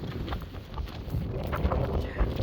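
Steady wind gusts into the microphone during a horse-drawn drive behind the horse Greentree Lady's Man, with low rumbling buffeting throughout and faint clip-clop of hooves beneath it.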